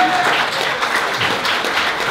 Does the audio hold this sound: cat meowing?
no